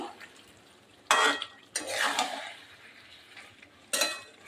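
Chicken pieces being sautéed and stirred in a pan for a red chicken kosha with potatoes, with a few bursts of scraping and clattering against the pan over a faint low sizzle.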